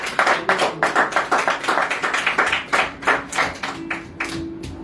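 Church congregation clapping together for the Lord, a steady run of rhythmic handclaps, close and loud, with a sustained voice or tone lingering beneath toward the end.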